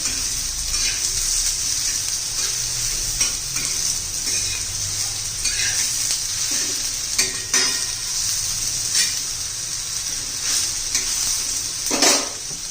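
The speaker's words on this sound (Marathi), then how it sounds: "तेलामध्ये चांगले असे परतून घेणार आहोत आपण हे घोसाळी." Ridge gourd frying in oil for a Khandeshi-style bharit, a steady close sizzle with scraping stirs and a few clinks of a utensil against the pan.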